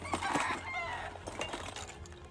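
A chicken in the video game Arc Raiders clucks in a quick, fairly close burst of short calls over a low steady background hum.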